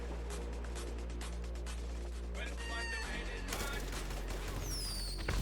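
Assault rifle fire in GTA Online's Cayo Perico: dense rapid bursts of gunshots and explosive crashes over a constant engine-like rumble, loud and continuous, with game effects layered on top.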